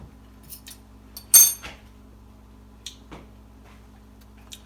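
Metal spoon and cutlery clinking in a kitchen while cooking: a few light, sharp taps and one brighter clatter, close by, over a steady low hum.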